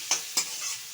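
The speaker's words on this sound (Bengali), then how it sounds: "এই যে আমি দুটো বড় পেঁয়াজ বাটা রেখেছি এটাকে দিয়ে দিলাম। এটা একটু নেড়ে নিয়ে" Ground paste from two large onions is stirred in a frying pan, with cumin, bay leaf, dried chillies and cloves already in the oil. Two quick scraping strokes rise over a soft, steady sizzle.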